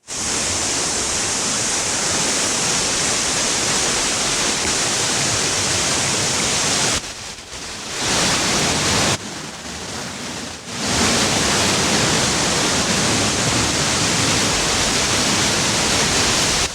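Rushing water of the 65 m Tarawera Falls on the Tarawera River, Kawerau, New Zealand, roars as a continuous broadband wash, loud and steady, briefly dipping twice before returning to full strength.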